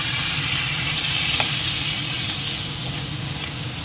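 Small chopped shrimp hit hot oil in a pan with radish frying, giving a steady, close, loud sizzle with faint stirring clinks and no voices.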